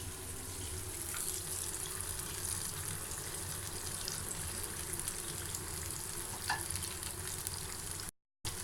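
King fish slices frying on a low flame in a Tamil meen varuval, a steady broadband sizzle of oil holding evenly throughout with no talk, cut by a brief gap near the end.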